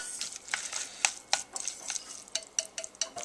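Cold spicy sesame ramen noodles with sesame seeds and scallions being tossed in a bowl, producing soft wet squelches and light clinks of utensils against the dish in an irregular, close, quiet rhythm.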